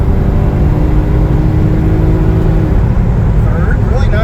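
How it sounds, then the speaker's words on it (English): A rebuilt 1991 Mitsubishi 3000GT SL with an upgraded automatic transmission downshifts into second gear on the road. Its engine and road noise form a continuous loud drone, with someone talking over it. "There's second gear downshift."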